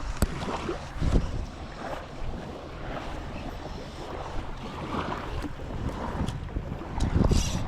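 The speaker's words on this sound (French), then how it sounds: "Ouais, on a un vent un peu de face." Steady wind buffeting at the waterside during a fly-fishing session for sea bass, a broad constant rush with gusty swells and occasional water lapping, no voices.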